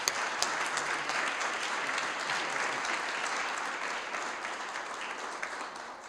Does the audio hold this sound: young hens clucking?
no